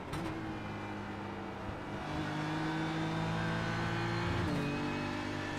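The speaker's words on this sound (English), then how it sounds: "You can hear the tyres scraping." Race car tyres scrubbing against the track surface in the iRacing sim at Watkins Glen, a steady engine drone with sustained tonal scraping that shifts pitch mid-way, fairly loud and without talk.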